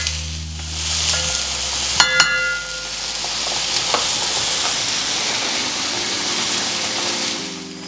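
Kale sautéing in a pan for a vegan omelette gives a steady, close frying sizzle with a few clinks of a utensil against the pan, and no talking.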